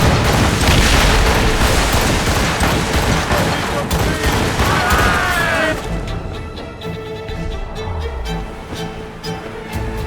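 Naval cannon broadsides in the video game Assassin's Creed Rogue, a dense fusillade of booming shots and crashing impacts that thins out into scattered distant blasts, with shouted battle orders over the top.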